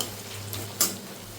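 A soft, steady pan sizzle from onions frying, brief, with a single sharp clink of a utensil near the end.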